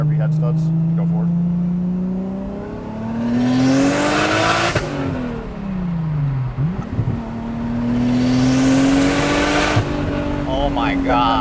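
A Nissan Laurel sedan with a swapped RB25 Neo engine and big single turbo accelerates hard through the gears, loud and close from inside, with rising revs, sharp shifts and turbo whoosh as people talk over it.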